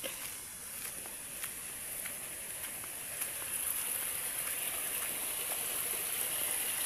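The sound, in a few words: stream flowing below in the forest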